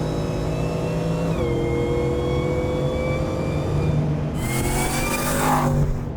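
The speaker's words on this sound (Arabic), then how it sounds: "والله صوت السوبر روعة. ماكينة CTSV ماكينة LT4" Nissan Patrol fitted with a supercharged GM LT4 V8 engine revs up and holds a loud, steady high-rpm drone, with a brief sharper rise in pitch near the end.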